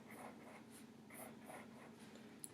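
Pencil strokes scratching across paper while drawing lines for an owl craft, a series of soft rhythmic swishes, close and quiet, with no talking.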